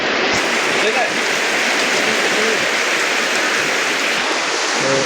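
Steady, loud rain pours down during outdoor cooking, a dense continuous hiss with no break across the whole stretch.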